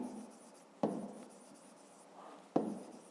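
Pen writing by hand while working a fifth-grade math exercise: quiet, steady scratching with two sharp taps of the pen, close and alone, no voices.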